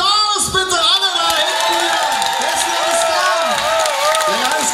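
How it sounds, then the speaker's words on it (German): A live concert crowd at the 47th Parkfest in Meerane cheers for a tribute band, with steady, loud roaring and high whoops and whistles sweeping over one another throughout. "Gib mir mal einen großen Applaus, bitte"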